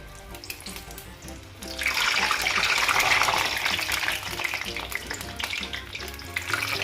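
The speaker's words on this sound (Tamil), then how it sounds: "இப்போது நாம் முறுக்கு பிழிய போகிறோம்." Sweet murukku dough is pressed into hot oil. The frying swells into a loud, bubbling hiss partway through, then settles into a steadier crackle close by.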